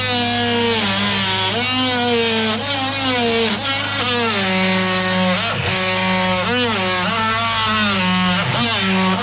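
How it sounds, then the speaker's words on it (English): An oscillating multi-tool saw cuts out a section of a wall with a loud, continuous buzzing whine whose pitch repeatedly dips and recovers as the blade bites, heard close and alone. "I'm gonna go get my multi-tool saw and cut that one out"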